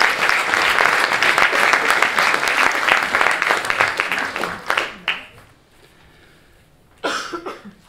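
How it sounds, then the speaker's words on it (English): Audience applause for a chairman at an evening talk: dense, sustained clapping from a crowd for about five seconds, fading out, then a short fresh burst of claps near the end, with scattered coughs. "Can we have a huge round of applause for our chairman"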